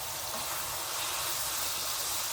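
Chorizo frying in a skillet coated with a little vegetable oil, giving a steady, dense hiss of sizzling fat that holds even and close throughout, with no talking.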